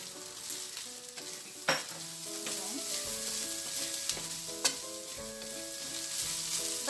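Luncheon meat and baguio beans stir-frying in a pan, a bright continuous sizzle with a couple of sharp spatula knocks and scraping strokes, close up with no talking; faint background music underneath.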